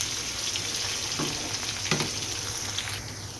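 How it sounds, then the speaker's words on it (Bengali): Chopped onion and whole spices fry in a pan, giving a loud, steady sizzle throughout with a couple of brief scraping stirs. "পেঁয়াজটার কাঁচা স্মেল মিঠা পর্যন্ত আমি একটু এটা ফ্রাই করে নেব"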